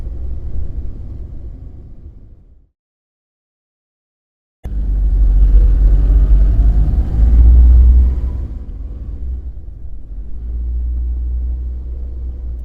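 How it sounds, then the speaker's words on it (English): A police vehicle pulls away in a visual novel game: a low engine rumble fades into a brief silence, then returns louder, swelling to a peak before settling into a steady drone. "The police vehicle started moving."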